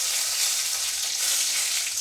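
Spices with panch phoron, dried chilli and bay leaves fry in hot oil for prawn malai curry, a loud continuous close sizzle with soft stirring underneath and no speech.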